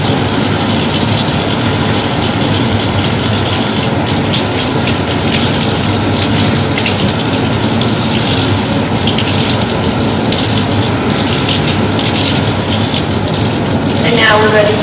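Tap water runs steadily while hands are washed with soap in a surgical scrub area, a constant loud splashing hiss with a brief voice near the end.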